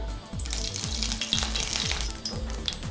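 Oil heats and sizzles in a pan on a gas stove while cooking Kadaknath egg chilli, a steady close hiss and crackle with a faint regular ticking pulse beneath.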